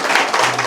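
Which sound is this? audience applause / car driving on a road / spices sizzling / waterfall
audience applause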